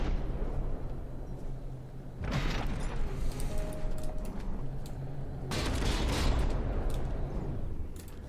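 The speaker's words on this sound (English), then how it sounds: "It's desperately firing some revolting blast guns" Blast guns on a sinking warship fire in heavy repeated volleys in From the Depths, loud dense bursts of booming gunfire with mechanical clatter, surging twice across the stretch.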